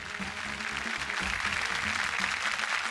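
A studio audience at a festive Marathi women's entertainment show claps together in dense, steady applause that holds at the same level throughout, close and loud, with faint voices underneath.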